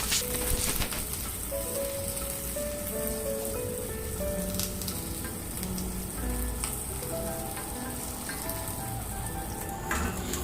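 Onion, ginger, three dried chillies and curry leaves sautéing in oil for fish curry, a continuous close crackling sizzle like light rain, steady throughout with no speech.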